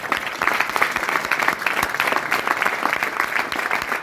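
An audience claps for a guest of honour at a business seminar, brisk and continuous applause filling the room for several seconds without pause.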